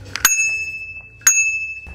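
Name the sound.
bicycle handlebar bell ringing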